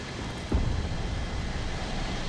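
Bomber aircraft engine drone from War Thunder Mobile, a steady broadband roar that holds throughout, with a low thump near the start, alone without talk.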